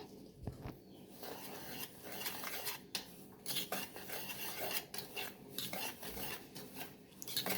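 Semolina and sugar being stirred together in a bowl for a rava cake, with quiet scraping and gritty rubbing plus a few light clinks of a spoon against the bowl, close and low in level.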